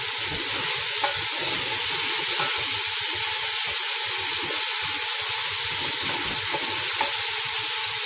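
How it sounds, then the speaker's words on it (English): Green peas, potatoes and carrot sautéing in a pan for a restaurant-style vegetable biryani, giving a steady, even sizzle throughout with a few faint clinks near the start and end, and no talking. "green peas, potatoes and carrot. Just saute them a bit."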